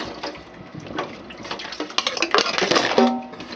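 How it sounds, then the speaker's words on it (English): Silverware and dishes clatter in a kitchen sink with running tap water, close and busy, with metallic clinks growing denser and louder toward the end, no talk. "Here we go with the other silverware."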